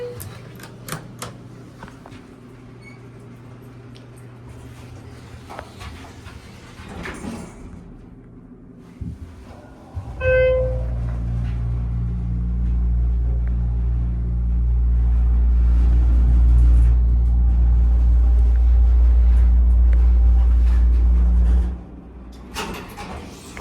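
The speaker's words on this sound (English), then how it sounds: "This will be the elevator at Boscov's Concord Mall, Wilmington, Delaware." A 2007 Schindler HT 330A hydraulic elevator at a Boscov's store in a Wilmington, Delaware mall runs with a loud, deep rumbling hum. A chime sounds, the rumble holds steady for about twelve seconds, then it cuts off.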